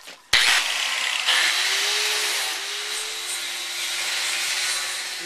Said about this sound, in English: I brought my angle grinder with an abrasive flap disc